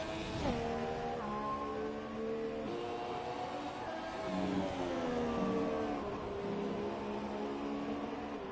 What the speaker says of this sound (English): See him swinging that car left,